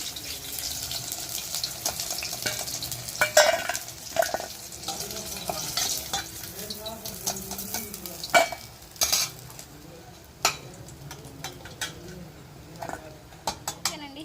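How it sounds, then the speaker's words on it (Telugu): Beaten eggs fry in oil left over from frying chicken pieces, a steady sizzle under frequent stirring, scraping and metal utensil clatter against the pan. "అదే చికెన్ ముక్కలు ఫ్రై చేసిన ఆయిల్లోనే ఎగ్స్ కూడా పోసేసుకున్నాం"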